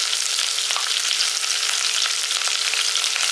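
Garlic and green chillies frying in hot oil give a dense, bright, steady sizzle close up, with a few faint crackles and no talking.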